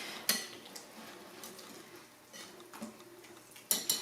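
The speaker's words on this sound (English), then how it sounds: "Just stir it all up into one bowl and it's ready to go." A spoon scrapes and clinks around a bowl while a pie mixture is stirred, soft intermittent knocks and light scraping close by, with a couple of sharper taps against the rim.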